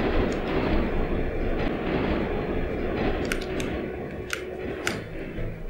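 A train in the video game Turok 3 rolls past with a steady rumbling roar and faint rhythmic clicks of the wheels, followed by a few sharp metallic ticks near the end.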